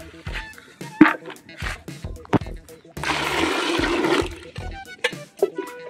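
Water is poured over freshly gathered wild button mushrooms in a bowl, giving a steady rushing splash for about a second, with knocks and handling clatter around it and a voice talking between.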